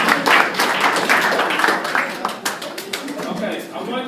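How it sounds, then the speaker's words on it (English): A middle school audience applauds students at a presentation: dense, lively clapping from many hands, loud and sustained, with some voices mixed in. "Okay, clap it up for these guys."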